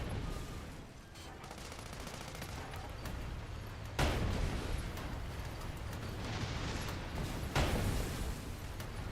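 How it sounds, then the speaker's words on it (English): Video game explosions and gunfire crackle in dense, continuous bursts, with two sharper booming blasts standing out against a steady roar of combat noise. "Man, I love explosions that have like a radius of effect."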